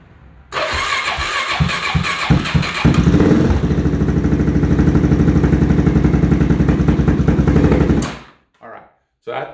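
A Suzuki DRZ big-bore stroker motorcycle engine with a Lectron carburettor fires up for its first start in a cold garage, then runs loud and uneven for about seven seconds before cutting off, with a brief voice afterward.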